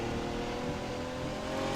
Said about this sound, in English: I like how you hear the turbo